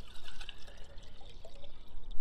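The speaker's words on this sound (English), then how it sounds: "water to fill the quart up" Water poured into a quart jar during an in-field jar test, a short close trickling splash that fluctuates in level as the stream fills the jar, heard alone.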